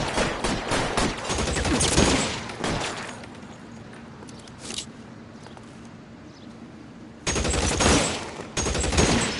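Gunfire in a shootout in the video game L.A. Noire, bursts of rapid loud shots at the start and again near the end, with a quieter stretch of scattered distant shots between.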